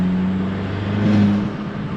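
A tuned Volkswagen MK7 GTI accelerating hard, heard as a steady engine drone with a humming low tone that rises slightly in pitch over two seconds, recorded from inside or close to the car.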